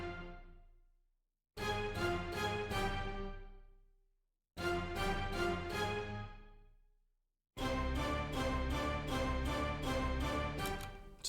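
Orchestra hit samples from a Lex Luger drum kit punch out in loud, bright bursts, playing a clipped piano-like melody in three sections separated by short gaps, with no talking.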